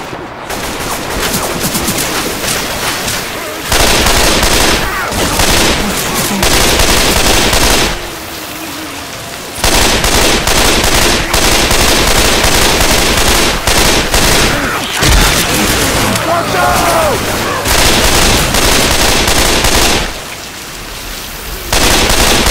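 Sustained, loud bursts of assault rifle fire in a video game rattle almost continuously, broken by a few brief pauses, with heavy noisy texture throughout.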